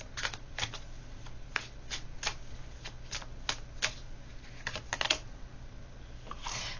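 Tarot cards shuffled and drawn during a reading, giving a string of crisp, separate card snaps and flicks at an uneven pace over a low, steady background hum, close and fairly quiet, with no talking.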